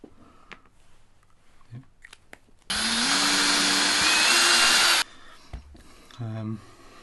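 A power drill whirs loudly for about two seconds, its pitch rising slightly, while working on a Flying V guitar, between quieter handling noises and a short voice afterward.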